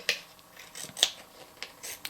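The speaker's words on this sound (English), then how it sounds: "I can trim that with a razor blade and a pair of scissors" Scissors trimming tape on the wheel well of a Losi Trail Trekker Suzuki RC trail quad: four short, sharp snips spaced apart, close and fairly quiet.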